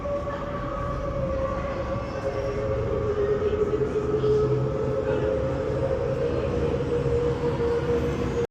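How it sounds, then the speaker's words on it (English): A high-speed train rushes past in Denver, a loud continuous roar with a sustained tonal whine running throughout, steady and close. "Another high-speed train coming by."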